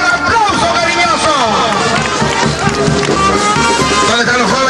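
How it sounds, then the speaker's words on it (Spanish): A large crowd at a rural community celebration in Peru applauds warmly, dense continuous clapping and cheering mixed with voices, loud and sustained throughout. "un aplauso cariñoso"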